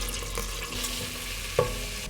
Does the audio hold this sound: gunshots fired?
no